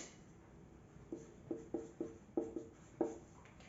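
Pen scratching the date onto paper for a formal letter, a series of soft, short strokes in irregular bursts, quiet and close with no talking.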